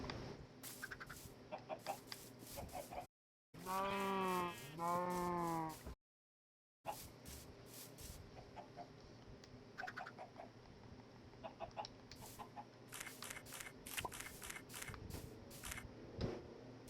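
A Minecraft farm with chickens clucking and cattle mooing almost nonstop, dense overlapping animal calls at moderate loudness, broken by two long drawn-out moos and a brief silent gap.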